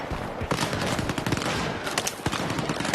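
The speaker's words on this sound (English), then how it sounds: "We're being shot at." Gunfire in the Stalker 2 VR video game crackles loudly and continuously, a dense burst of rapid shots layered over one another with no talk.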